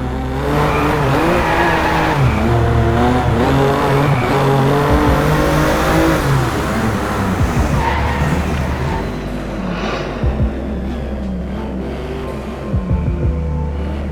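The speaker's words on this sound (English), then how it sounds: "Evolution's audio captures are the most high-definition recordings of these cars in existence" Racing car engines in a video game roar and rev loudly, pitch rising and dropping repeatedly as gears shift, with brief tire squeal near the end.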